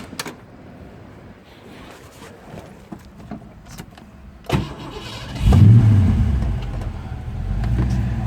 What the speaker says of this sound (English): Let's start the car up and see what kind of vent temps we're getting.